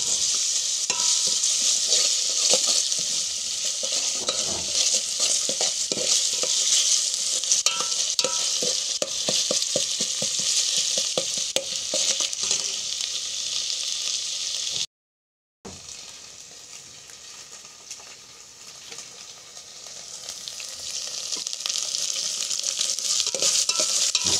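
Ginger-garlic paste frying with onion and tomato in a chicken curry, a close, steady sizzle broken by frequent scraping stir strokes, briefly cutting out before the frying hiss resumes, no voices.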